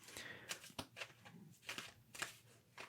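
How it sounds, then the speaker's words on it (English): Tarot cards shuffled by hand in a series of quick, soft riffling bursts and taps, close and fairly quiet, with no talking. "I'm shuffling right now."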